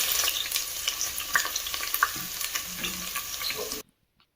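Onions frying in a pan with cardamom for soya chunk pulao, a continuous close sizzle broken by stirring clicks and scrapes, cutting off abruptly to silence near the end.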